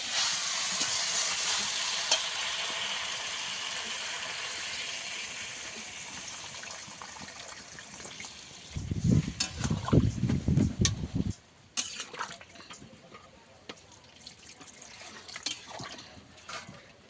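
Water is poured into a pan of sautéed vegetables with drumstick, potato and pointed gourd, the steady sizzle giving way to a brief loud splashing rush, then quieter bubbling and clinks.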